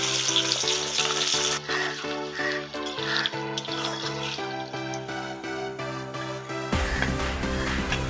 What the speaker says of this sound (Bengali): তারপরে পেঁয়াজ দিলাম, ভেজে তুলে নেব।